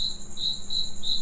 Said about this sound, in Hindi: झींगुर भी बोल रहे हैं भाई तो उनकी आवाज़ें गूंज रही हैं।